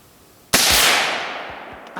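A single loud, close rifle shot from a .270 hunting rifle such as a Browning A-Bolt Medallion or Savage 110E fired at a target, a sharp crack followed by a long rolling echo that slowly fades.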